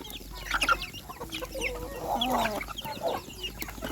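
Chickens clucking and squawking close by, a busy flurry of short calls overlapping one another over a steady farmyard background.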